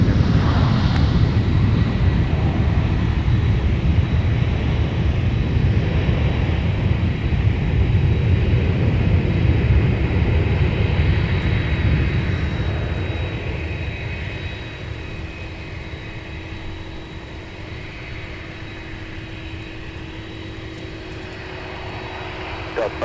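An Endeavor airliner lands on runway 12 right at Minneapolis–Saint Paul airport, a broad engine roar loud at first and then fading as it rolls out, with a thin tonal whine above and radio voices speaking over it.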